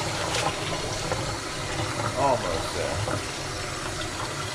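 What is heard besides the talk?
running tap water rinsing a tie-dye shirt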